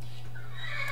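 A horse whinnies in Minecraft modded version 1.7.10, a short game-sound neigh rising over a steady low electrical hum, about one second long with no talk.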